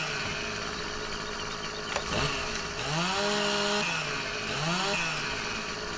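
A chainsaw in Farming Simulator 15 being aimed at tree branches. It idles with a low rumble, then revs up sharply twice into loud whining bursts that fall back to idle, close and alone.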